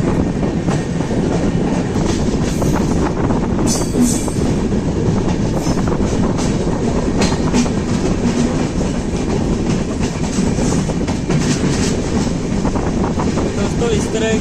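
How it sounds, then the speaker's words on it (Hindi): A goods train passing on an Indian railway line, loud and close, with continuous rumbling, wheel clatter and clickety-clack over the rails that holds steady throughout; faint talk may sit under the noise. "की गुड्स ट्रेन ना मैंने फर्स्ट टाइम देखी है"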